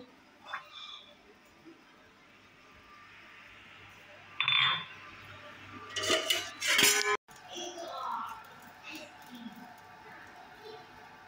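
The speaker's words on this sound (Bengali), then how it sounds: "অল্প কয়েকটা থালা বাসন আছে, এই যে ধুয়ে নিতে হবে।" A few plates and dishes being washed clink and clatter in short bursts, some loud and close, with quieter gaps between them and a voice talking now and then.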